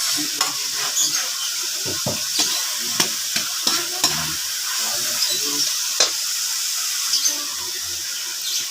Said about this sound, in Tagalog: Halo-halo lang hanggang sa lumambot tong kamatis. Tapos sabay na ang bawang at sibuyas.